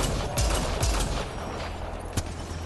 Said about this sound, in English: Oh, I almost shot Drak again.